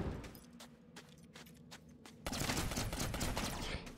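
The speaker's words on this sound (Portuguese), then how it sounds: "Mostrando que você consegue atirar através de grades, explodir barris, bujões, né?" Gunfire from The Mobius Machine: a run of sharp, quick shots rattles off in bursts, then a denser, louder crackle of blasts takes over midway, fitting barrels and gas canisters exploding in a tutorial area.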